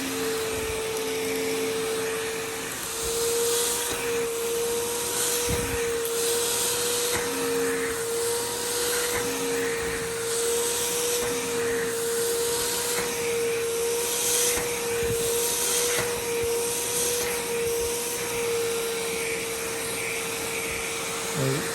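Bissell SpotClean Pro carpet cleaner running with a steady, loud motor whine and suction roar, constant for the whole stretch with occasional scraping rubs of the nozzle across carpet.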